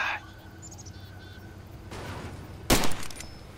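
A single sharp gunshot in Far Cry 2, one loud crack late in a quiet outdoor scene with faint bird chirps and a softer earlier burst of noise.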